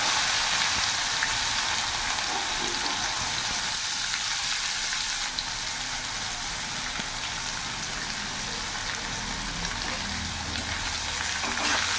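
Chopped onion frying in hot oil with whole cumin, whole garam masala and dried red chilies, giving a dense, steady, close sizzle that hisses evenly throughout with faint stirring under it.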